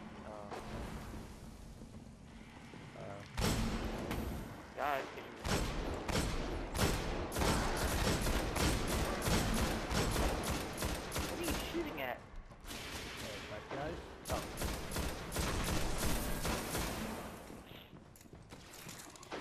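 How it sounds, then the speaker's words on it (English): Dense bursts of rapid rifle fire from the video game Destiny, loud and continuous in long volleys with brief lulls, layered over a roaring battle backdrop. "How's that new rifle working?"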